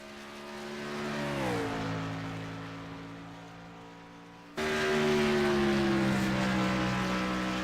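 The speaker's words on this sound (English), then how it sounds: "And Richard the Rocket Murtaugh will be the fourth car rolling out" Race cars rolling out onto the track for an opening lap, engines droning steadily with a rising pitch shift midway, then a louder, closer engine note taking over as another car passes near.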